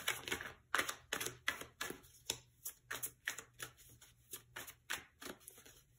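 Tarot cards being shuffled by hand, a rapid run of crisp riffling bursts in a steady rhythm, close and fairly quiet, with no talking.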